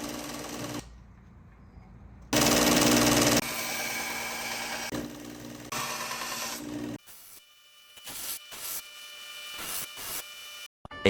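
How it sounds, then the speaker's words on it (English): A belt sander fitted with a 120 grit belt grinds a knife blade made from an old rasp, a loud motor whir with abrasive grinding. It runs in stretches, then gives way to short bursts with gaps between them. "So I'm going to switch out this 80 grit belt for 120 and sand a little bit more"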